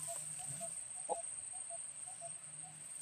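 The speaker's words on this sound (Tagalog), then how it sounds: "Kung naririnig niyo po ang mga ibon na yan" Birds call on a mountainside in short, scattered chirps, a few close and soft, over a steady high insect drone, with one brief louder call partway through.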